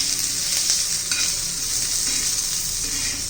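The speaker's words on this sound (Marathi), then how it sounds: "छान तेलामध्ये असा परतून घ्यायचं आहे" Garlic sautés in a little hot oil with a bright, steady sizzle and crackle, close up, with a few brief spatula scrapes and no talking.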